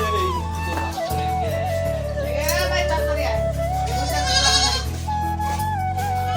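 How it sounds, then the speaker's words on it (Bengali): A crossbred goat at a small family home bleats with wavering, drawn-out cries, loud and close over a busy background of other sounds. "ক্রস ছাগল।"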